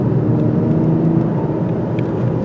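A 2024 Lexus LC 500h hybrid engine drones with a steady low exhaust rumble while driving, loud and continuous with no talking.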